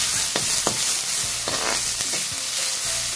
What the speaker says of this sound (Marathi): आपल्याला 1 मिनिट तरी कांदा हा भाजून घ्यायचा आहे।